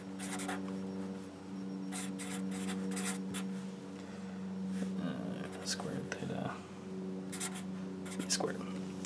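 Pen or marker scratching out a long formula on a board, in bursts of quick close strokes between pauses, over a steady low hum with a voice speaking at times.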